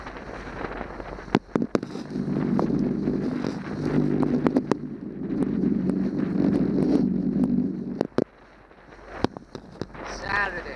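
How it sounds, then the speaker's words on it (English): Gusty wind roars and rumbles against the microphone over the water near Gravelly Point on the Potomac, rising and falling in long surges, with scattered sharp knocks and clicks. "It's pretty windy right now."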